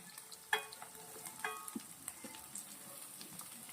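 Mixed vegetables with grated ginger stir-fry in a pan over a high gas flame for spring roll filling: a faint, steady sizzle broken by a few sharp clicks of stirring, with no talk.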